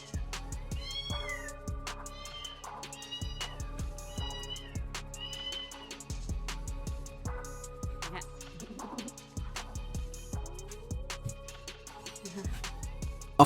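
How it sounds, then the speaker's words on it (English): A cat meows repeatedly in drawn-out, rising and falling cries, fairly close, with soft background rustling between calls. "Angry mommy cat is here."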